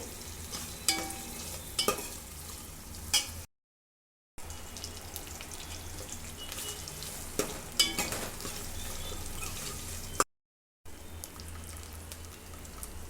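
Onions frying in a pan until browned for Nellore-style pappu pulusu, a steady close sizzle with occasional stirring scrapes and small pops, interrupted by two brief gaps.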